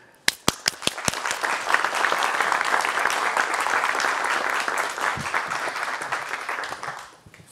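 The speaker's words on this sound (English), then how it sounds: "Please give him a big round of applause." Audience applause at a Green Economy Fund COP26 event, a few sharp opening claps quickly swelling into sustained, dense clapping from a crowd that fades out at the end.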